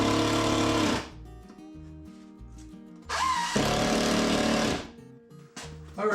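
A power drill driving screws into wood, with two loud whirring bursts of a few seconds each and a brief third one, separated by quieter gaps.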